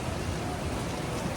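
Heavy rain pouring down in a steady, dense hiss with no pauses, close and enveloping, without any voices.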